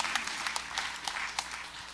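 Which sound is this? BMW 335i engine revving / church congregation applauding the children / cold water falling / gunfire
church congregation applauding the children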